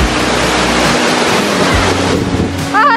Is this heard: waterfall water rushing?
yes